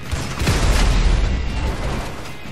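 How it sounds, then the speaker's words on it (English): Explosion in the video game GTA V Online, a loud, broadband rumbling blast with deep low-end boom that swells quickly and then holds as a dense roar for a couple of seconds, with no talk over it. "Pardon me here, I didn't cause that explosion"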